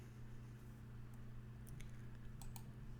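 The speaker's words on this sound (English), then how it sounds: "I'm typing with my left hand here." Typing on a computer keyboard with one hand, a few quiet, scattered key clicks over a constant low hum, no talk.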